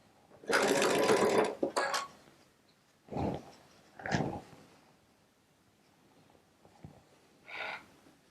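A Baby Lock Solaris sewing machine with a quarter-inch piecing foot stitches quilt rows together in a short, loud burst of about a second. Softer handling clicks and thumps follow, with quiet gaps between them.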